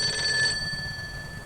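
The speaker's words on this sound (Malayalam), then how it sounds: "ഈ നേരം ഡിറ്റക്റ്റീവ് ജമ്പന്റെ റൂമിൽ ഗംഭീര ഫോണടി." A telephone rings in a detective's room, a bright electronic trill that sounds briefly and then stops, leaving a low background hum.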